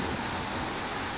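Heavy morning rain falls in a steady, dense hiss of drops striking surfaces, an even wash of sound with no voices.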